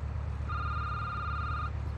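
A telephone in the security booth video game gives one fairly quiet electronic ring lasting just over a second, set against a steady low hum.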